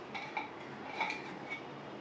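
Fried, puffed sweets drop into a pan of sugar syrup, with a few faint metallic clinks of utensil against pan spread over a quiet kitchen background.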